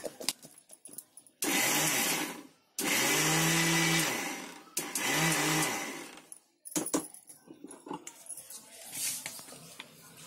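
An electric grinder blends peanuts into a sticky paste in short bursts of loud, close whirring, with the motor pitch straining and dropping under the load. Rattling and handling sounds fill the pauses between runs.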